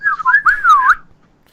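A person whistles a short, wavering melody, bending the pitch up and down in a few quick phrases before trailing off, close and clear with no talking.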